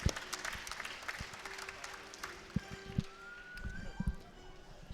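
Crowd at a speedcubing championship applauds and cheers as Feliks Zemdegs takes the stage, steady dense clapping with scattered louder claps and thumps, moderately distant and continuous across the clip.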